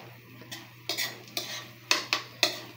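Mama tuna hot and spicy with egg is stirred in a pan, giving about seven quick, crisp utensil scrapes against the metal, close and clear, over a faint background hum with no voices.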